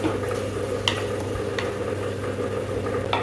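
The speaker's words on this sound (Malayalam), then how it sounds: "നല്ലപോലെ നമ്മളൊന്ന് സോട്ട് ചെയ്ത് കൊടുക്കുക" Green peas sizzle and hiss steadily in a hot pan for a broccoli mushroom rice, with a few soft clinks of stirring over the continuous frying noise and no talking.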